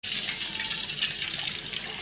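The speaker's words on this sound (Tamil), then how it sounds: "200 மில்லிகிராம் தண்ணி சேர்த்துக்கணும்." Water pouring steadily into a pan after ghee has melted while making semiya kesari, a continuous close hissing splash with no talk.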